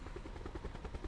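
A helicopter in the video game Call of Duty Blackout: a continuous rotor thrum with a rapid pulsing beat, heard from inside or close by, steady and moderately quiet.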